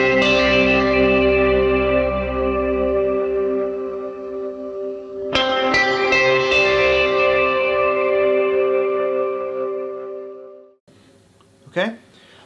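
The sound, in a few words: soloed guitar part with reverb built on Helix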